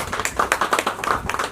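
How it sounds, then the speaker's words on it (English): Scattered hand clapping at an evening society interiors and design magazine launch, a short burst of uneven claps, fairly close and moderately loud, with no talking over it. "And huge round of applause"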